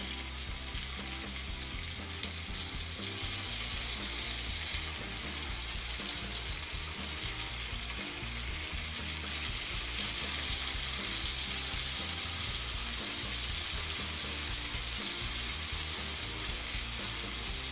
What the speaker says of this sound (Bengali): তারপর উল্টিয়ে পাল্টিয়ে ভেজে নিব মাছগুলো।